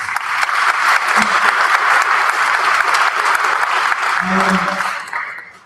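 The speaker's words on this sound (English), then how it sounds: "Big round of applause to Nancy, by the way." Sustained audience applause fills a hall at a talk event, dense and steady for several seconds before tapering off, with a brief voice near the end.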